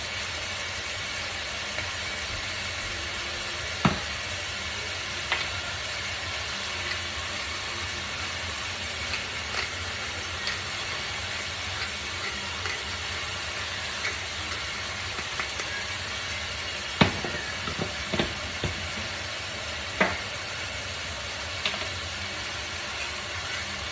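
Onion frying in a pan for Italian-style lentils gives a steady, close sizzling hiss throughout, broken by occasional sharp pops and clicks.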